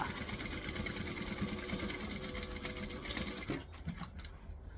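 A sewing machine chain-sews seams one after another, a steady fast mechanical whirring hum running continuously, then briefly pausing and restarting near the end.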